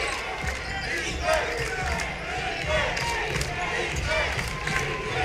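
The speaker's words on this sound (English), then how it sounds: "that'll get that home crowd going" A home crowd at a college basketball game between NMSU and CSUB cheers and roars after a foul shot, with a ball bouncing on the court and a commentator talking over the noise.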